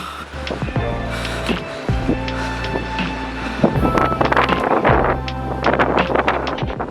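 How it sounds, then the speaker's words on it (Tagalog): Steady, blustery cold mountain wind on a hike up Mount Pulag roars against the microphone, with low rumbling and scattered rustling bursts, no voices. "Napakalamig na hangin ang sumasalubong sa amin habang kami papalakad papuntang Camp"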